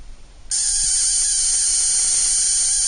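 A Tesla coil spark gap running without grounds: a harsh, steady electrical buzz starts abruptly after a brief quiet moment and continues loudly and evenly, a thin crackling spark hiss with no voices.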